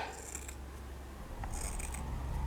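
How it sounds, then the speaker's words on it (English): Scissors snipping paper strips for a frilly daisy flower craft, a few crisp close cuts over a low steady room background, no talk. "all you do is you cut halfway down strips"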